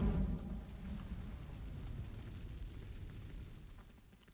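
The Incendio fire spell setting dry vines ablaze in the Hogwarts Legacy video game: a soft whooshing burst followed by a low, crackling rumble of flames that slowly fades, fairly quiet and with no voices.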